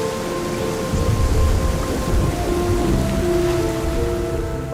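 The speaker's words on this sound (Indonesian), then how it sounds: "kapal Malin Kundang berlayar lagi dan muncul badai besar" A thunderstorm at sea with heavy, steady rain and rumbling thunder, set in a staged drama of the Malin Kundang legend; a dense, continuous wash of rain with low rolling rumbles throughout and no voices.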